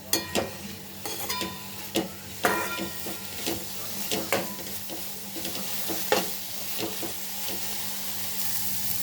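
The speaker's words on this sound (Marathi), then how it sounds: "तेलामध्ये थोडंसं परतून घेतल्यामुळं फक्त दोन मिनिट आपण याला असं हाय फ्लेमवर परतवून घेऊया" Capsicum (shimla mirch) sabji stir-fried in oil on a high flame, a steady dense sizzle with repeated sharp scrapes and clacks of a spatula against the pan, loud and close with no talking.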